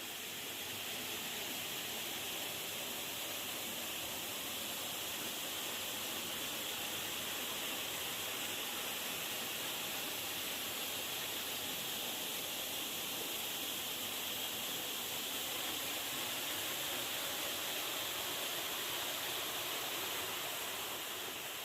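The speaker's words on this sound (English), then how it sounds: "Fantastic little hidden waterfall." A small hidden waterfall on a river in wild Northumberland countryside gives a constant, even rush of falling water, broad and hissing, steady throughout with no voices.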